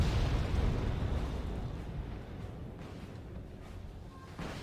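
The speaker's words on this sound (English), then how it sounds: "Artillery coming in" Heavy, rumbling artillery blast during a Cold War ground battle with T-72 tanks in Wargame: AirLand Battle, a loud explosion whose roar slowly decays, then a faint second pop near the end.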